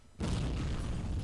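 A grenade explosion in the video game Men of War erupts suddenly after a brief quiet moment, a loud, deep blast that rumbles on without a break.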